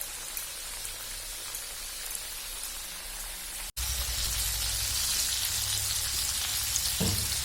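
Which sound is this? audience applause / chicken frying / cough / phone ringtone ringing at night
chicken frying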